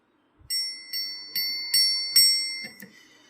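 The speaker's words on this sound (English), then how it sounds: "Listen to the bell." Five clear metallic bell strikes ring in a steady rhythm, each bright tone decaying into the next, followed by a shorter, softer final chime, close and alone against silence.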